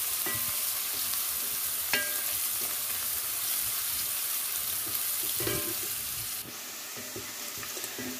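Sliced onions fry in oil in a home kitchen, a soft steady sizzle with occasional clinks and scrapes of a stirring spoon, the hiss dropping slightly near the end, no speech.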